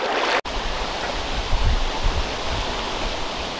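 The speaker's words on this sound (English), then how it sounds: "it's great to see the water flowing" A muddy mountain creek swollen by heavy rain at 6300 feet in Wyoming rushes steadily, a close, even wash of flowing water with a brief dropout near the start and no voices.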